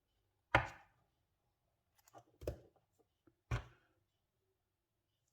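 Three crisp snips of scissors cutting crochet yarn ends while making an amigurumi wolf, spaced apart with quiet gaps between, close and distinct with no talking.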